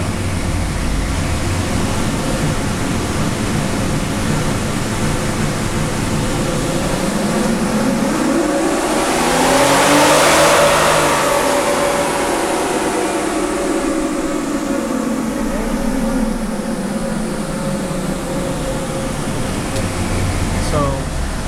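A 2012 Jeep Wrangler with a 3.6L V6 engine roars on a dyno as the revs climb steadily to a loud peak near the middle and then fall away, mixed with heavy roller and fan noise throughout.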